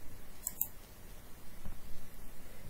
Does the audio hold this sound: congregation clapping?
no